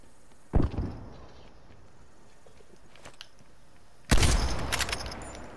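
Two loud shotgun blasts in a video game, one early and one later, each a sharp boom trailing off, with quiet gaps between.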